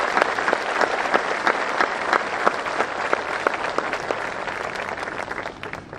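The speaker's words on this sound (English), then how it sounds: "Please join me again in giving them a round of applause." Sustained audience applause fills a graduation ceremony for a high school class of 2021, many hands clapping in a dense, steady wash that stays loud throughout and eases slightly at the very end.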